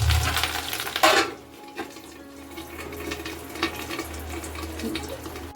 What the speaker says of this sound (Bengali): এবারে মাছের ডিমগুলো ভাজবো।